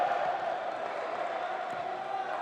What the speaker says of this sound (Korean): 목포대학교 관중들